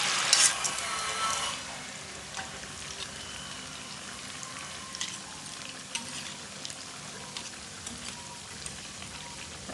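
Steady crackling sizzle of tofu batter frying in hot oil, with a louder burst at the start that settles into an even hiss.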